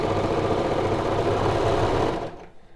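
A Baby Lock Victory serger runs steadily over stretch fabric, a loud, close, continuous whirring stitch that stops abruptly near the end.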